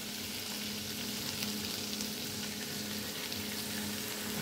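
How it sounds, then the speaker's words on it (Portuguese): Shoestring potatoes fry in very hot oil, a dense, steady, bubbling sizzle heard up close and continuous from start to end. "O óleo está bem bem quente. Eu vou fritar por duas vezes."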